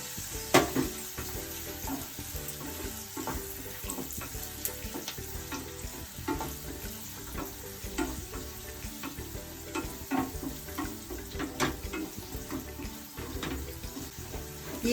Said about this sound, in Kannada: ಹಸಿರು ಈರುಳ್ಳಿ ಅದರಲ್ಲಿ ಸೇರಿಸಿ ಮತ್ತೆ ಫ್ರೈ ಮಾಡಬೇಕು